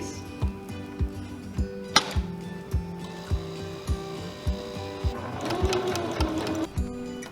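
A home sewing machine stitches through layered quilted potholder fabric, its needle thumping in a steady regular rhythm of close, fairly loud pulses, with a brief burst of faster whirring near the end.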